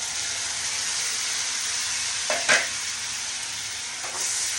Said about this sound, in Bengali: এভাবে ফ্রাই করছি করে এখন আমি পেস্ট করে রাখা পেঁয়াজটা দিচ্ছি।